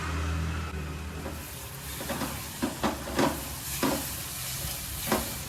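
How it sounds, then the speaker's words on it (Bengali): Tomato paste fries in a pan while a spoon stirs it during the cooking of spicy chicken keema. A soft, steady sizzle runs underneath, broken by several distinct scraping strokes. "টমেটোর কাঁচা গন্ধটা চলে যাওয়া অবধি ভাজবো"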